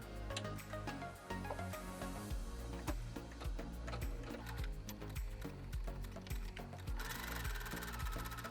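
A sewing machine stitches fabric for a weighted pin cushion with scrap bag, a close, steady rapid mechanical chatter that runs unbroken throughout.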